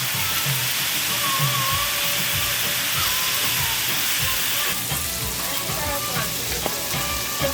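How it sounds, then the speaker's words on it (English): Bacon fries on a grill plate over a stove outdoors, giving a steady, close crackling sizzle with spitting pops throughout, with no talk heard. "Yeah, frying nice."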